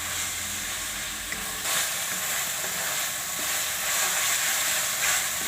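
Fenugreek leaves frying with chana dal in a pan, a steady close sizzle and hiss with occasional stirring scrapes, no voices.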